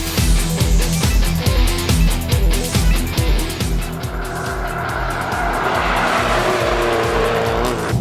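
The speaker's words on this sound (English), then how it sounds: "The BRZ slithered through the slalom" Subaru BRZ on air suspension weaving through a slalom course, engine revving loudly and pulsing as it shifts direction, tires squealing and hissing, close and continuous with no talk.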